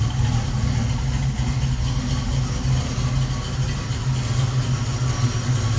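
A 1986 Chevrolet Monte Carlo SS with a 350 V8 idles steadily, a continuous low engine rumble at an even level with no talk.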